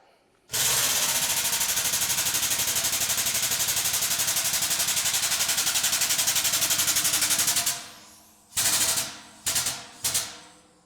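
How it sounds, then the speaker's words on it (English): A Harbor Freight metal press bends a quarter-inch steel bar over a tight die, making a loud, steady rattling hydraulic drone for about seven seconds. It stops, then comes back in three short bursts. "We're trying to bend a piece of 4-inch quarter on a super tight die."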